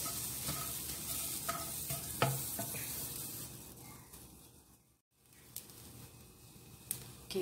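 Hot oil in a pan for chicken curry with curry leaves, crackling and sizzling steadily at close range, with scattered sharp pops, a short near-silent gap midway, then the sizzle resumes.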